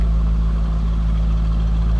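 A 2004 Chevrolet Corvette convertible with a stock LS1 V8 idles close up with a steady, deep low rumble, even and unbroken throughout.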